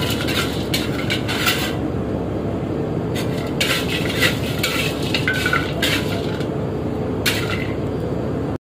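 Cumin seeds dry-roasting in a pan for Makassar konro, a steady dense crackle and scrape of stirring with bursts of brighter utensil scraping, close and continuous with no talk.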